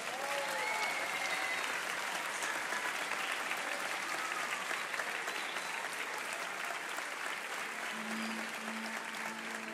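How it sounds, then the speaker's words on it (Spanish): A concert audience gives a singer sustained, dense applause, with continuous clapping at an even level throughout and a faint crowd murmur underneath. "lo recibimos con un aplauso enorme"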